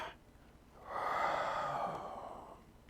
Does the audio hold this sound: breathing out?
yes